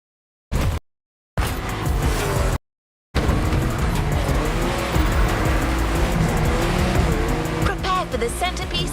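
A Mustang Boss 429 muscle car in The Crew 2 street racing, with a loud engine roaring and revving, some tire squeal, brief dropouts at the start and then continuous driving noise under talk.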